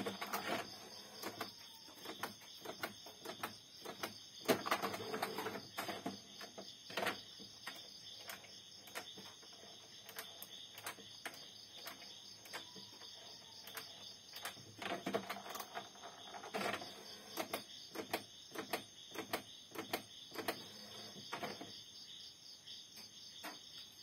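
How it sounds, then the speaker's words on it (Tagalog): An HP Ink Tank Wireless 415 printer runs a head cleaning cycle, giving a faint steady whir with many small irregular clicks and ticks over a quiet room, and no one speaks. "pakinggan nyo dito sa printer natin"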